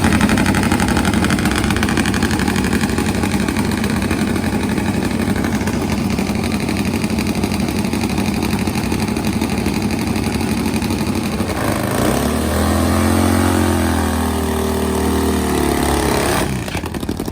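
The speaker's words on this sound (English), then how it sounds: "Let's watch Jeanette in action in the pro fuel category, a carbureted high gear only class" Loud, sustained engine roar from a carbureted pro fuel drag racing motorcycle in the NHRA Top Fuel Harley series, running high gear only, a steady heavy drone that shifts in pitch near the end, with no talk over it.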